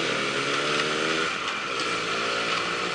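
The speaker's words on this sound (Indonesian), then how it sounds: "suara motor 2 tak itu kan khas ya" A two-stroke motorcycle engine runs steadily and loudly throughout, a continuous buzzing drone with a raspy, ringing tone and no pauses, close to the listener with no talk over it.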